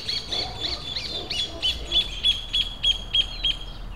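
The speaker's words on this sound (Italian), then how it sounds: "Ammazza, oh, che uccelli, come cantano." Songbirds sing outdoors in a repeating series of bright, high chirps about every third of a second, clear above a low background hum.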